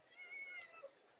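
A cat gives a single soft, faint meow indoors, heard on its own without talk.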